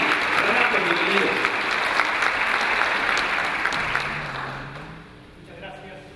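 Audience applause welcoming speaker Renato Opertti at an education congress, a dense, sustained wash of clapping that fades out over the final seconds.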